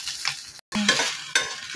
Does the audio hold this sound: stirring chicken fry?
yes